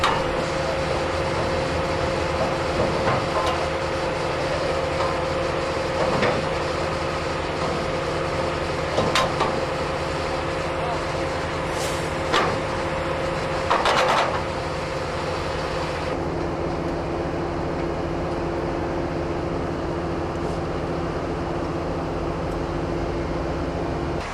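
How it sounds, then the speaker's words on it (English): A Harsco Rail track construction machine working on railway track, a loud sustained mechanical drone with a few sharp metallic clanks and bursts, then a steadier lower hum. "Harsco Rail's new track construction machine."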